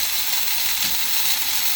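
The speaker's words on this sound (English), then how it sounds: "Wait until it's only steam." A Presto Bollentee espresso machine steam wand releases a steady, loud hiss of steam with a faint rattling, sputtering texture, heard alone without talking.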